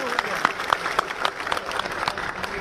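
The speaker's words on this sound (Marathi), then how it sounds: "आपण जोरदार टाळ्या वाजवून त्यांचं स्वागत करावं." A crowd applauds at a public speech in Bhigwan to welcome MLA Sangram Jagtap, with loud rhythmic clapping that holds steady throughout.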